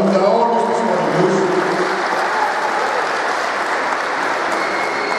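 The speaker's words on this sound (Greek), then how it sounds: "Ένα μεγάλο χειροκρότημα παρακαλώ για όλους τους χορηγούς" A crowd at a New Year pie-cutting gathering of a Greek association applauds its sponsors in sustained, dense clapping that fills the room, with a voice briefly audible at the start.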